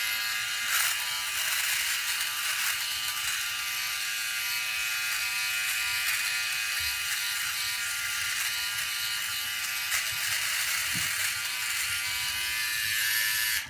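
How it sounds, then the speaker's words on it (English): A Philips OneBlade electric razor buzzes steadily up close while shaving off a mustache and around the lips, a continuous even hum with slight changes as it moves. "I'm going to shave this, I'm going to eliminate the mustache, and I'm going to shave all the areas around my lips"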